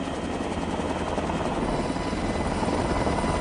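A helicopter hovers close by during a raid in Sequoia National Forest, its loud, steady rotor and engine drone filling the whole stretch without any speech.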